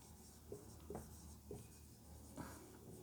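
Chalk or marker writing on a classroom board, heard as four soft, scratchy strokes spaced about half a second apart over a steady low room hum, with no talking.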